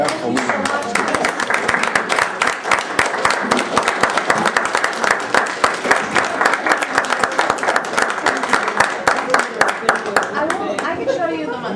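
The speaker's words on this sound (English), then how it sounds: "Could we just do a round of applause for Bratt?" An audience at a live-streamed chat event gives a loud, sustained round of applause with many close, crisp individual claps, lasting the full twelve seconds, and voices mixed faintly beneath.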